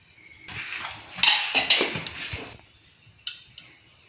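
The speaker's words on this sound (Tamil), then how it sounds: "சட்டியை வச்சுக்குவோம் தேங்காய் ஊற்றிக்குவோம்" Cooking pot set down with a metallic clatter, then coconut oil poured in, a short burst of clinks and pouring splash followed by a couple of light taps, no speech.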